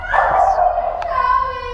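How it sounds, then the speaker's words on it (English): Dogs bark and yip indoors during a carpet and tack-strip removal for a vinyl floor remodel, a short loud cluster of yelps and whines close by. "The dogs are going crazy."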